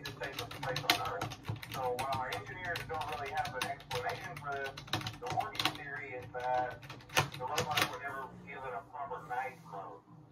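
Buttons are pressed in quick irregular clicks and taps, close and fairly sharp, with a person talking over them much of the time.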